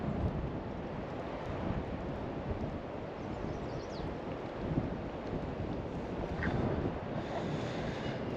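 Steady gusting wind at a lakeshore campsite in the Canadian wilderness on a misty, drizzly morning, a continuous broadband roar buffeting the microphone with no voices.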